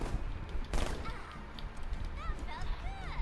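Bursts of gunfire from the Batman Arkham Knight Harley Quinn DLC rattle amid game noise and a loud impact, while a player's voice talks over the action.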